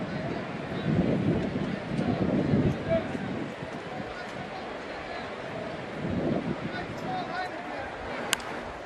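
Gusty wind buffets the microphone at an outdoor baseball game between Minnesota and Boston, a low rumbling roar that swells and fades over a faint background murmur.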